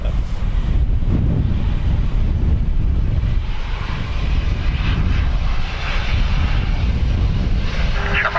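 An airplane on landing approach at Dublin Airport on a windy day, with a loud, steady engine roar heavily buffeted by wind gusts hitting the microphone throughout.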